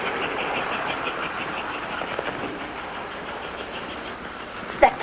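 An American Flyer model Hudson steam locomotive running on a club layout. It puffs with a quick, regular chuff over a soft mechanical whir, moderately close, and ends with a couple of sharp clicks.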